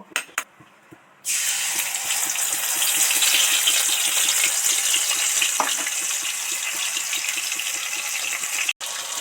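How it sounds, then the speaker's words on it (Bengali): Spiced chili paste mixed with a little water hits hot oil, bursting into a loud, steady sizzle and spatter after a brief quiet start, holding strong and close for several seconds. "এই মশলাটা এবার তেলের মধ্যে দিয়ে দেব"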